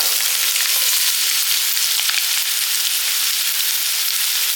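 Finely chopped radish hits a hot pan for sautéing, giving a loud, continuous, close frying hiss that holds steady throughout with no talking.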